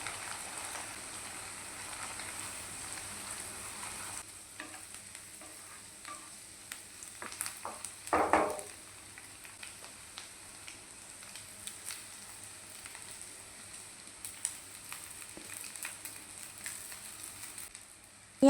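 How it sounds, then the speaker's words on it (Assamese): An egg fries with cabbage and capsicum in a pan for chicken fried rice, a steady close sizzle with occasional stirring scrapes and a brief clatter midway, continuous and without talking. "এতিয়া ডিমটো ইয়াৰ লগতে ফ্ৰাই কৰি ল'ম।"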